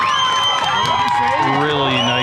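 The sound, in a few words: crowd cheering a goal at a girls soccer game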